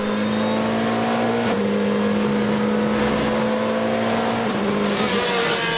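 GT supercars, a McLaren and a Ferrari among them, race at Slovakiaring in the 2013 Supercar Challenge, their engines droning loud and steady with pitch shifts as they rev and jostle through a technical sector, tires faintly squealing.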